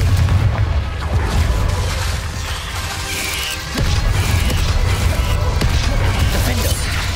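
A Confringo explosion spell in the video game Hogwarts Legacy, a loud booming blast with crashing impacts over dense, continuous game noise.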